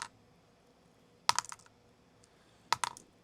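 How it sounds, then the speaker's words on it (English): A spinning top dropped onto a hard surface, giving two short bursts of sharp, rattling clicks about a second and a half apart, close and fairly loud against near silence. "I have a top, and so I could just drop it and make some clicking sounds."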